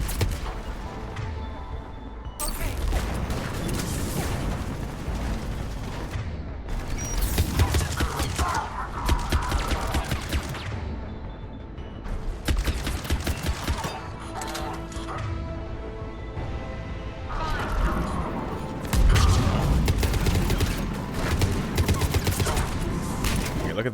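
Rapid automatic gunfire from the Typhoon weapon in Mass Effect 3, sustained bursts almost unbroken across the whole stretch, mixed with game combat noise and impacts at a steady loud level.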